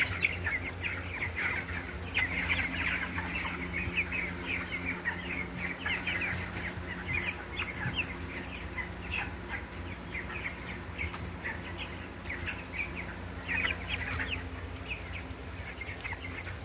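Meat chickens murmur and cluck softly in a continuous background chorus during high heat, with scattered higher chirps over a low steady hum.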